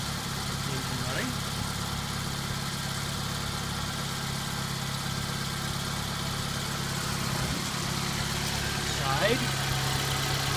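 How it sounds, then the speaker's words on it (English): A 1990 Mazda Miata MX5 engine idles steadily and close by for the whole stretch, a constant low hum and rumble with a faint mechanical buzz on top, with no talk over it. "Engine running."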